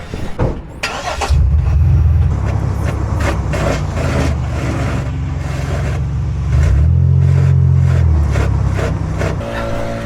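A car drives along with a loud, steady low rumble from one faulty wheel, recorded beside that wheel, swelling to a heavier droning roar partway through, with no talking.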